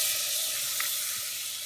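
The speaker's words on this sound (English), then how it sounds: "You're going to melt some butter in a hot pan." Butter melting in a hot pan gives a steady, soft sizzle, a continuous close hiss with no voices and only a faint pop near the middle.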